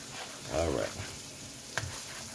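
Egg frying in a pan for Malaysian char kway teow noodles, a soft steady sizzle with a brief scrape partway through and a clink near the end.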